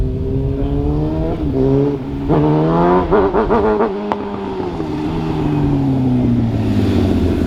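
A Yamaha R6 sport bike screams past nearby, its engine revving hard through rising and falling pitch sweeps, peaking as it passes and then fading as it pulls away.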